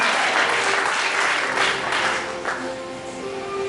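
A church congregation claps together in worship, a dense sustained burst of applause that eases slightly toward the end, with faint voices mixed in.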